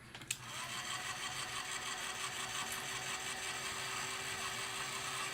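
A drying tool, likely a hair dryer or heat gun, blows steadily over wet acrylic paint on a painted cherry, a continuous close whir with a faint tonal hum that begins with a click and runs unbroken.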